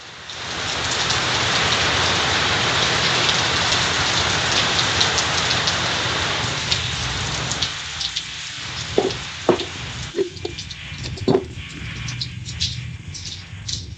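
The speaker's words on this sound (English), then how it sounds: "The rain is lighter." Steady, dense rain hisses loudly at first, then thins out into lighter patter with distinct individual drips and taps nearby.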